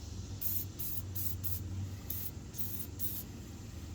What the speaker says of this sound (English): grab your penetrating fluid and start soaking each nut and bolt